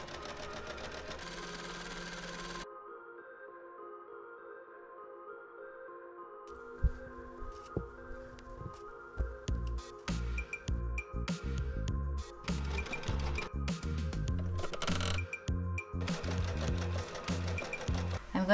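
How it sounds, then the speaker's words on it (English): Sewing machine stitching pieces of jeans together at the waist, starting after a quiet gap with uneven runs of rapid stitching and brief stops, near and moderately loud, over a faint steady hum. "I'm going to sew them together and then on top of the waist."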